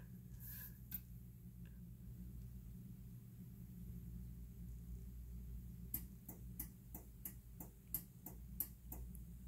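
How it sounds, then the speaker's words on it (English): Air conditioner ticking in a New York room on a snowy early morning: a low steady hum, then from about six seconds a string of around eight sharp, close ticks at an uneven pace. No one speaks. "The aircon is ticking"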